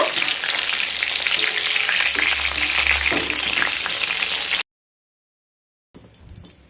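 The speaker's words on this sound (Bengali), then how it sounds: "পটলগুলোকে ভেজে নিয়ে তারপর ফিরে আসছি।" Loud, continuous sizzling of pointed gourd frying in hot oil, with faint stirring, then a pause and quieter clatter.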